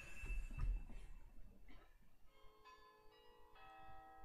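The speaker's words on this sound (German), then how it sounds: "Ding Dong, Ding Dong, die Schulglocke läutet." A school bell rings out in a few struck, ringing tones that decay into sustained resonant overtones, fairly faint and alone with no voices.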